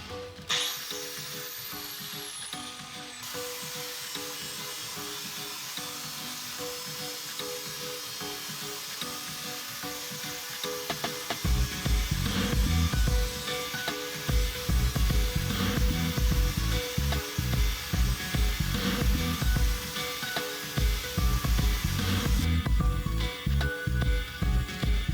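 A Polifan Curve grinding disc grinds a weld seam, starting with a quieter whirring spin-up and then settling into a loud, sustained abrasive grind with rapid pulsing as the disc bites the metal, easing off near the end.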